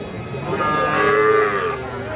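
A young bull calf about two and a half to three months old lets out one drawn-out moo, loud and close, rising and then fading over a couple of seconds.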